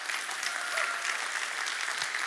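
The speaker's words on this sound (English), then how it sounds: "Give yourselves a round of applause" A live audience applauds itself at a talk about talent and salary. Steady, even clapping from a crowd holds at a moderate level for just over two seconds, with a thin whistle-like tone near the start.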